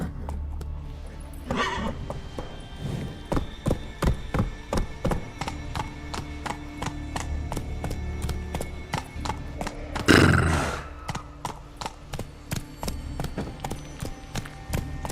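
Roach, a horse in The Witcher 3: Wild Hunt, clops along at a steady, rhythmic pace with loud close hoofbeats, broken midway by a sharp, strained neigh.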